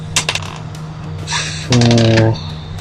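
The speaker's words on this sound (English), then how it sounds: "There's an important point you have to remember about barricades while I roll my dice." Dice rattle and clatter across a table in a few quick bursts, close and fairly loud, with brief vocal sounds mixed in.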